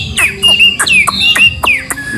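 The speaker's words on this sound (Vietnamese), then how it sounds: "giọng chó các bạn, kêu như chó con ạ" A wild laughingthrush (khướu) gives a series of sharp, squeaky yelping calls that sound like a puppy, repeated in quick bursts close to the microphone.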